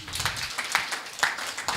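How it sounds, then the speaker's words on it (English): An audience applauds a speaker after a talk on renewable energy generation in Kenya, with a moderate patter of hand claps and a few sharper claps standing out, and a little voice mixed in. "a round of applause for Dr. Anna"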